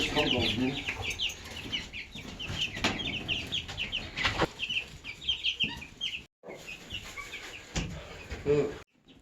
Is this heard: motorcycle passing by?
no